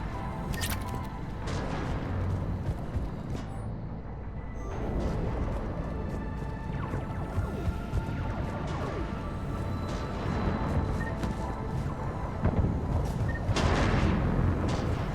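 Heavy artillery-like cannon fire in the video game Mass Effect 3, a dense continuous barrage of booms and blasts, loud and close, with no one speaking.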